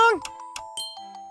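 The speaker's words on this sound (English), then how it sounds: "Ding dong!" A doorbell rings its ding-dong chime in The Gray Garden video game, a few bright tinkling tones ringing out and fading, just after a voice briefly sings the same two-note call.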